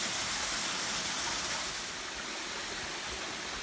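Waterfall at Red River Gorge heard from the top, a continuous broadband rush of falling water, loud and steady, easing slightly partway through, with no voices.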